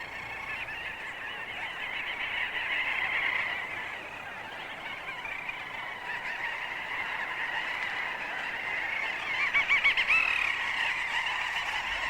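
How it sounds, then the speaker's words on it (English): Seabirds such as little auks gather on the summer shore of the Norwegian coast, where a massed, unbroken din of nasal honking calls rises and falls, with a louder nearby burst near the end. "Seabirds swarm to the coast to spend their summers by the shore."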